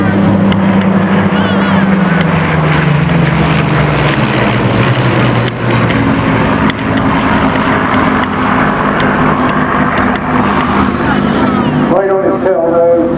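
A Spitfire aircraft, once made to resemble a Mark I, flying at the Eastbourne airshow: a loud, continuous propeller-engine drone whose pitch slowly drops as it passes, with a commentator talking over it throughout.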